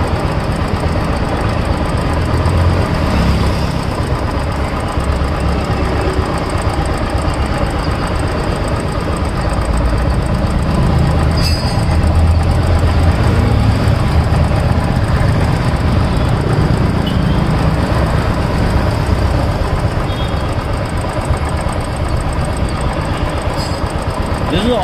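A running car engine is heard through a mechanic's stethoscope, giving a dense, steady mechanical clatter with rhythmic knocking from rocker, tappet and cam parts, close and continuous.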